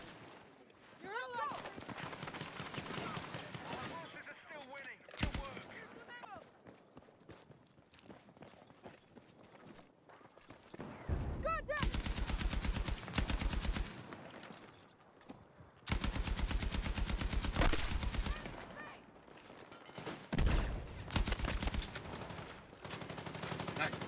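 Bursts of automatic gunfire from a Battlefield video game come in several long, loud volleys with short gaps, plus single shots between them, heard over a voice talking on and off.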